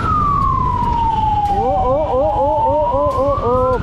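A loud police or ambulance siren sweeps slowly downward, then breaks into a fast warbling wail over a low rumble of traffic, close and continuous.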